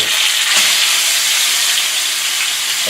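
Elk steak hitting smoking-hot olive oil in a pot, a loud, steady, broadband sizzle that holds close and unbroken for the whole stretch, with a brief surge of spatter near the start.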